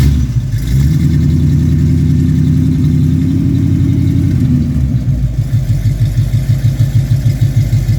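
A car engine with a mild cam, its misfire now fixed, idles loud and close, then revs up toward 4,000 RPM and settles into a smooth, steady, even pulsing run; no talk.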